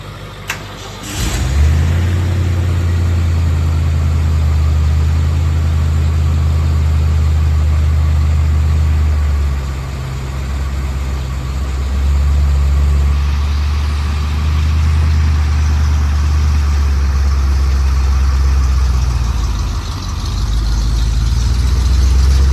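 A diesel pickup truck hitched to a trailer starts and idles nearby, producing a continuous low rumbling drone with a few slight dips in loudness.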